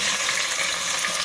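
Chicken frying in hot oil for korma, a dense, loud, continuous sizzle with the stirring rustle of the pieces being moved around the pan, no voices.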